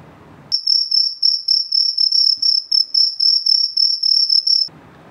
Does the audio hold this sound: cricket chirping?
yes